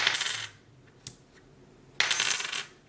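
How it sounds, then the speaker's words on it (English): A 90% silver Washington quarter from before 1964, dropped on a hard surface, rings bright twice, with a faint light tap between the two drops; no voices. "That's the sound you want to hear when you have a larger silver coin."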